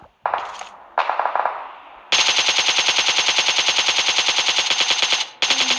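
Automatic gunfire in the video game PUBG comes as a couple of short bursts, then a loud, sustained rapid rattle of shots that cuts off and starts again near the end.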